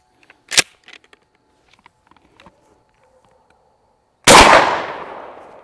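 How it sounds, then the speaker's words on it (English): A .410 slug fired from a 24-inch Mossberg 500 pump shotgun gives one sharp, loud outdoor blast with a trailing echo, after a faint earlier pop and a few quiet clicks of handling. "This time it's gonna be the 410 slug from the 24-inch Mossberg 500."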